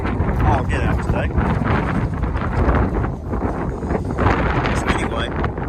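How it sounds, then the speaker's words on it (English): Wind gusting hard across the microphone, buffeting and rumbling in uneven waves, with a person's voice partly audible beneath it, outdoors beside a 1994-2001 Dodge Ram pickup during headlight replacement. "Sorry, it's windy."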